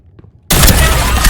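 A shotgun arm fires in the video game Deceive Inc., a sudden loud, dense blast that cuts in after a faint quiet stretch and roars on as a wide, sustained burst of noise.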